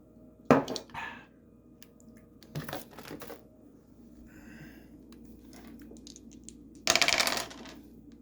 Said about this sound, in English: let's go ahead and roll the dice here